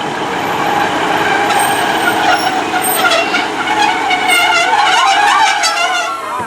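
A Class 150 diesel multiple unit runs at Severn Tunnel Junction station, giving a loud, steady rumble with clattering and squealing wheel and brake noise throughout, close to the platform.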